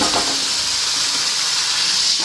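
Bitter gourd pieces frying in hot oil in a home kitchen give off a steady, loud, hissing sizzle that stays constant throughout.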